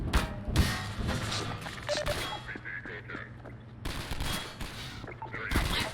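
Rapid gunfire bursts from the video game Half-Life 2 come in loud repeated volleys, separated by brief quieter gaps, with no speech over them.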